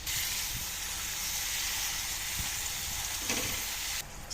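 Fresh spinach dropped into a pan of frying ginger, garlic, fenugreek leaves, turmeric and red chilli powder for a chickpea curry, giving a steady, close, continuous sizzle and hiss with a few soft stirring knocks, no voices.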